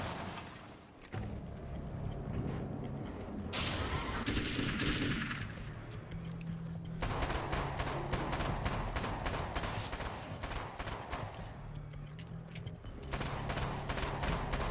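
Gunfire from the Alan Wake's American Nightmare video game, the same gun as in Max Payne, fired in sustained rapid bursts for most of the span. Brief pauses break the shooting, and it is loud and close with no talk.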